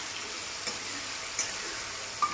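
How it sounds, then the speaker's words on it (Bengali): Green banana pieces frying in oil, a quiet even hiss of sizzling with three faint spoon taps spaced across the clip, no talking. "এখন আমি এটাকে ভালো করে ভেজে নেব, একদম লাল লাল করে ভাজতে হবে"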